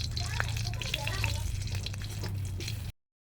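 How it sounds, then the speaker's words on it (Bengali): Chillies sizzle and fry steadily in a hot pan while cooking a pumpkin bharta, a continuous crackling hiss with occasional stirring, running under a person talking throughout. "প্রথমে ভেজে নেব লঙ্কা"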